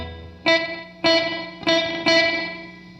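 Klempt Echolette E51 tape echo unit sounding four sharp, bright guitar-like chord hits about half a second apart, each followed by a sustained, smeared echo tail that fills the gaps with no talk.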